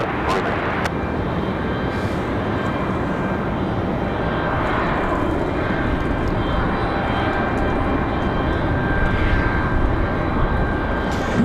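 An Envoy airliner arriving from DCA lands at Raleigh-Durham airport with a loud, steady engine roar that holds throughout, while a voice talks over it.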